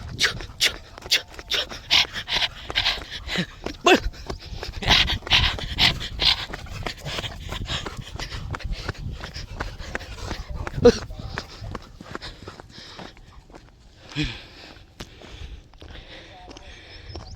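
A dog pants rapidly in quick, rhythmic breaths close by, with faint shuffling and occasional whimper-like sounds.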